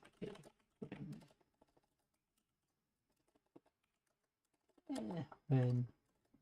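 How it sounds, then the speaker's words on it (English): Computer keyboard typing, faint, with scattered soft clicks between stretches of speech, during a casual coding session; people talk at the start and end. "geez, my typing's a bit worse"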